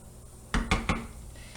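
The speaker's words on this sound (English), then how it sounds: "So now I'm giving them a stir." Vegetarian stuffed peppers with rice and lentils are stirred in a pot, giving three quick close metallic clanks in a row, followed by quiet.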